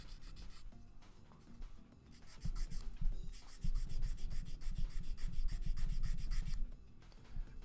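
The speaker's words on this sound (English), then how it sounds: "That moment where I'm sanding this, you can probably hear the file going in on it here" A file and sandpaper scrape against a plastic Gunpla model part in quick repeated strokes, close and crisp, starting lighter and growing into a denser, rougher rasping.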